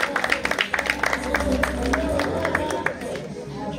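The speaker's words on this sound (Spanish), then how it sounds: "¡Las palmas!" An audience at a school graduation ceremony claps in a brief, lively burst of applause, with crowd chatter and a voice over a sound system mixed in.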